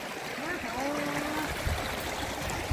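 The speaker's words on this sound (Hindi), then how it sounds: "कल कल कल कल बहता पानी, निर्मल जल है निर्मल जल।" A flowing stream runs near the Bhagwati temple, a steady broadband rush and trickle of water close by that persists throughout, with faint voices under it.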